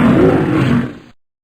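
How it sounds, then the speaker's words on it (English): A lion's roar from an animal-sounds collection: one loud, rough, low roar that holds steady for about a second, then fades out and leaves silence. "Lion."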